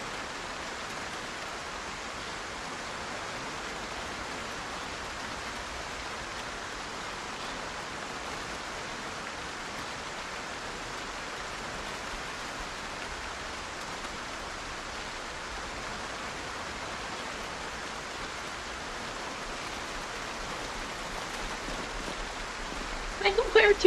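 Rain in the zombie survival game Project Zomboid, a steady soft hiss of rainfall holding at an even level throughout, with a few louder bumps at the very end.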